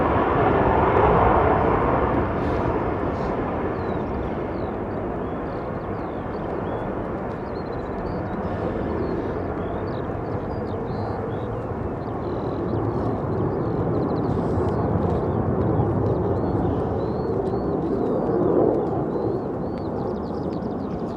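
A fighter jet takes off on afterburner at RAF Lakenheath, a sustained heavy roar that swells and ebbs over about twenty seconds, with faint bird chirps above it.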